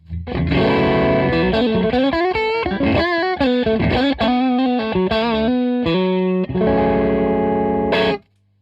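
A Victory V40 Deluxe guitar amp with reverb added, a distorted electric guitar playing a loud run of sustained notes and chords that rings out briefly before stopping.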